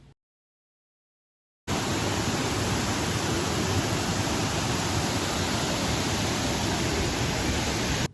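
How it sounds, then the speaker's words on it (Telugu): Water rushes steadily at Kothapalli waterfall, a dense, loud, unbroken roar that starts abruptly after a short silence and holds constant. "అండ్ ఇక్కడ వాటర్ ఫాల్స్ అయితే వావ్."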